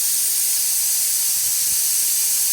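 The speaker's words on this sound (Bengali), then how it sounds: "এবার প্রেসারে সিটি করছে" A pressure cooker full of khichuri lets off a loud, steady hiss of steam with no break for the whole stretch, close and alone with no voices.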